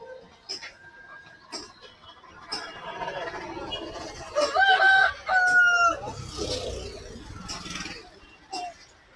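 Chickens cluck and a rooster gives a crowing call amid a busy poultry market in Rangunia, Chittagong, with people talking throughout and traffic noise in the background.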